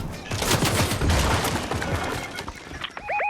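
Video game gunfire rattles in dense, continuous rapid bursts close to the player, and a short rising electronic tone sounds at the end.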